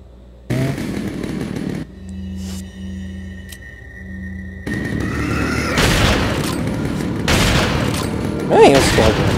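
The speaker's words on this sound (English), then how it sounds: "I'm switching my shotgun now." Shotgun blasts in a video game crack out in loud, booming bursts, with sharp reports toward the end over continuous game noise and a steady tonal hum earlier on.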